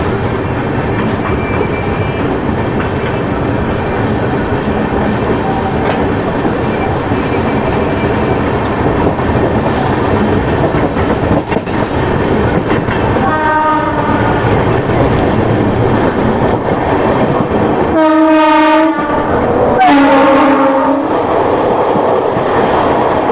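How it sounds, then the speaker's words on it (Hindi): A passenger train rumbles past close by with loud, continuous clattering of wheels on rails, and near the end its horn sounds in two strong, sustained blasts over the roar. "दोस्तों कोई ट्रेन आ रही है, देखते हैं कौन सी ट्रेन है ये।"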